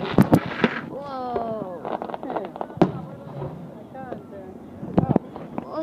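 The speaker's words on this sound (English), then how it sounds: "Facing the fireworks." Independence Day fireworks bursting nearby, several loud cracks and booms with crackling and whistling trails, while people talk and exclaim throughout.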